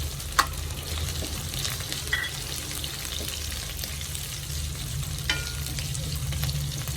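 Green chillies fry in hot oil for a potato roast, giving a steady, close crackling sizzle with a few sharp pops and light stirring scrapes throughout, with no talking.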